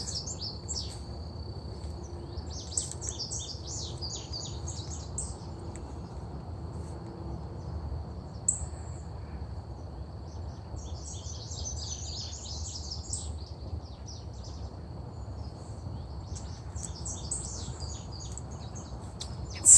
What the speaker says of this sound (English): And the birds are really loud through here.